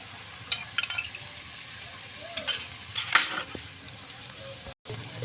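A spoon scrapes and stirs chicken and vegetable spaghetti with sauces in a pan, giving irregular clinks and scrapes over a soft, constant sizzle.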